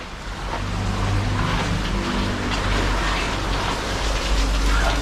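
Heavy, unbroken rain pours onto a flooded path in a neighborhood with no drainage, making a loud, continuous rushing roar of water that fills the whole stretch without any talking.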